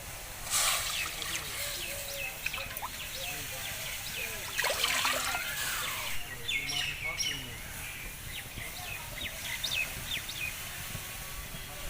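Water poured into a cooking pot for boiling eggs, a continuous trickling rush under chirping birds outdoors, with a voice talking faintly in the mix.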